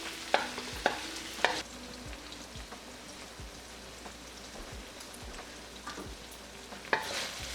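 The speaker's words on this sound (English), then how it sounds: "So now I'll fry it on medium flame, stirring it in between continuously to avoid the onions from burning." Onions frying in a pan over a medium flame, stirred now and then: a steady soft sizzle throughout, broken by several sharp scraping spoon strokes against the pan, with no one speaking.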